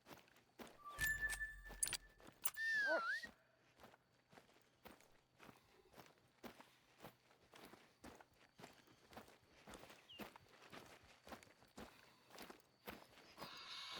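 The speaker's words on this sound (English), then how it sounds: "God, these footsteps seem all around me." Steady footsteps crunch along in The Hunter: Call of the Wild during a night black-bear hunt, regular paced steps throughout, with a few brief game effects and a faint whining sound near the start.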